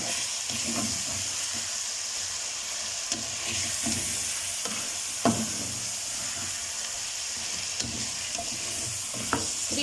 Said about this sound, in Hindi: थ्री मिनट्स के लिए मैं इसको भूनूंगी